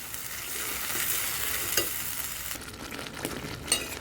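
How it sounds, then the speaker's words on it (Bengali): Spices for a rohu fish curry sautéing in hot oil, a soft steady sizzle with occasional stirring scrapes, close and quiet, with no voices. "কষতে কষতে আবারও এর থেকে তেল ছেড়ে দেবে, সেই অবধি কষাতে হবে।"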